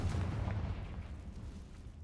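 Confringo fire spell in Hogwarts Legacy bursting in a deep, rumbling blast that rolls and fades over two seconds, heavy low boom with a fiery crackle, loud and close.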